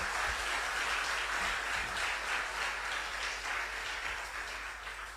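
An audience at a high school debate contest between Presbyterian SHS Bompata and Osei Tutu SHS claps steadily, a dense wash of applause that holds evenly and fades slightly toward the end, with no talking.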